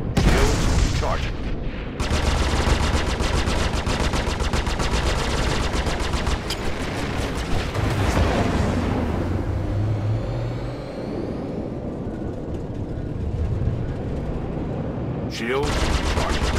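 Rapid bursts of gunfire rattle almost continuously against a ship's shields in a space combat video game, loud and dense throughout, briefly thinning near the end before another burst.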